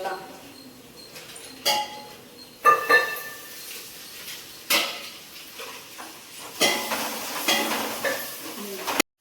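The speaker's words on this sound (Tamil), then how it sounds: "இஞ்சி பூண்டு பேஸ்ட் போடும்போதே இதில் எடுத்து கொஞ்சம் போட்டு நம்ம வதக்கிடுவோம்" Onion sautéed with ginger garlic paste, mint and coriander for chicken biryani, with bursts of sizzling and clattering stirring against the pan, separated by quieter gaps.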